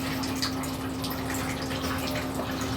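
Beef nihari simmering slowly in a pot gives a steady, soft bubbling hiss with faint gurgles, close and continuous, with no voices.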